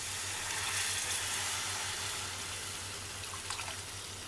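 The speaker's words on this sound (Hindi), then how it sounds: "तो करीब हम डालेंगे 1 कप पानी।" About a cup of water poured into a hot pan of dry fried masala for an egg curry, giving a steady hissing sizzle that stays even throughout, with a low hum underneath.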